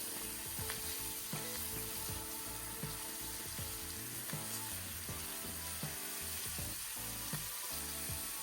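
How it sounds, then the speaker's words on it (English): Vegetables sauté in a pan for osso buco after beef shanks are removed, a steady dense sizzle with faint irregular clinks throughout, no voices. "And so now I'm going in with all my vegetables."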